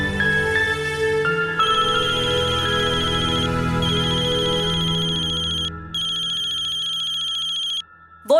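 A phone ringtone plays in steady repeated electronic bursts, loud and close, then cuts off near the end as the call is answered.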